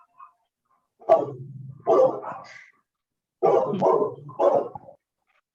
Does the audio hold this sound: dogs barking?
yes